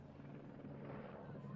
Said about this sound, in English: we have a helicopter head over the top of us